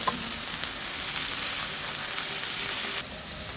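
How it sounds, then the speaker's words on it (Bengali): Ground onion and chili paste sizzles and fries in a pan for a Bengali dish of taro stolons and puti fish, a steady close sizzle with faint stirring clicks. "বাটা যে পেঁয়াজ মরিচটা ছিল সেটা দিয়ে দিয়েছি দিয়ে একটু নেড়ে ফেলে নিচ্ছি"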